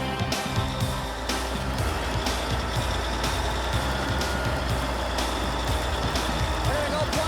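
A bulldozer runs in second gear to push dirt, its heavy diesel rumble loud and continuous with clanking track noise and a few rhythmic knocks. The machine is close and fills the whole clip.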